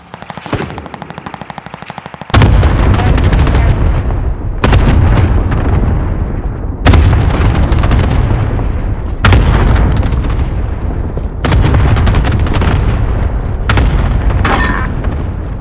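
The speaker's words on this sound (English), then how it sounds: "Allied cluster strike arriving!" Cluster strike in Call of Duty Warzone: after a rapid rattling lead-in, a series of five loud, heavy explosions land in succession every couple of seconds, each a sharp blast trailing into rumbling roar, no talking.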